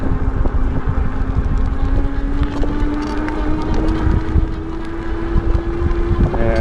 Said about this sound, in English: I have this wind on me, so it's nice.